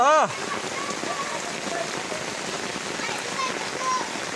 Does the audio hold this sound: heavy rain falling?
yes